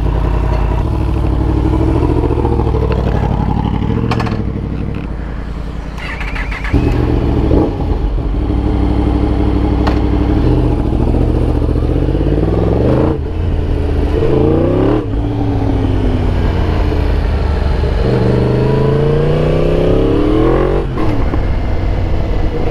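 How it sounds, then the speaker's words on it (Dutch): A Yamaha MT-10 motorcycle engine with an Akrapovič exhaust roars loudly at full throttle above 5000 rpm, revving up repeatedly with rising whines, close by and continuous throughout. "vol gas met de motor boven de 5000 toeren"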